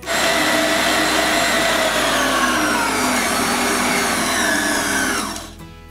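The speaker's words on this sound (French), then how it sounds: "Il ne vous reste plus qu'à pétrir." Machine kneading bread dough with a loud, steady motor whine that holds for about five seconds before winding down and stopping.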